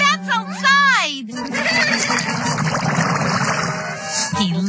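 A cartoonish horse whinny from a children's television show about horses rises and falls in a long wavering cry, then gives way to splashy noise and lively background sound.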